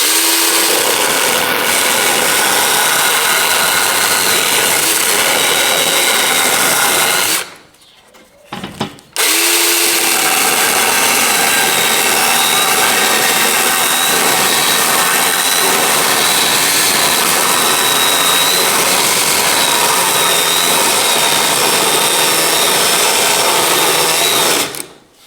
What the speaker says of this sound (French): je vais couper avec la tronçonneuse Makita à batterie pour voir justement